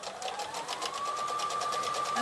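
A sewing machine top stitches a handbag in a steady, rapid run of needle strokes, loud and close, with no talking over it.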